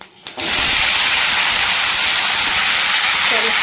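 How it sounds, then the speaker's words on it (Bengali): Potatoes dropped into hot oil tempered with five-spice, bursting into a sudden loud hiss that stays strong and continuous, close to the pan. "এবার আলুগুলো দিয়ে ভালো করে ভেজে নিই"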